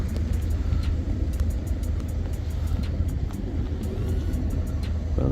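A police support vehicle drives past at Hitchin, a steady, loud low engine rumble with road noise that holds evenly throughout, close by with no talk.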